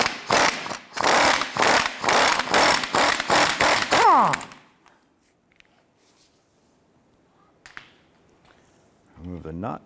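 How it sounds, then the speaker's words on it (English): On a 2006-2013 Chevrolet Impala, a strut mount nut is spun off with a 21mm socket on a power tool, giving rapid, loud, rhythmic hammering bursts up close for about four seconds, then near silence, a faint clink and a short whirring buzz. "So using a 21mm socket, we're going to go ahead and remove this nut right here."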